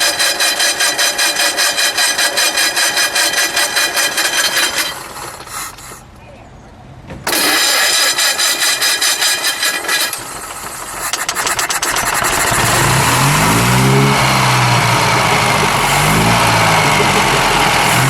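A 1936 Bentley 4.5 litre open tourer engine runs loud and steady with a dense mechanical clatter, drops into a brief lull mid-way, then fires back up and settles into a rough, rumbling idle.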